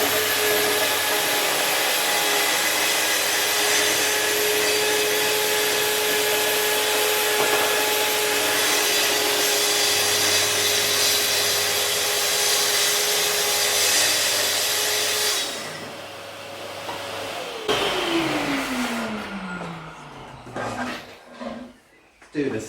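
Portable power tool cutting wood with dust extraction running during site joinery on a front door, a loud, continuous, steady roar lasting about fifteen seconds, then winding down in pitch, followed by softer handling noises.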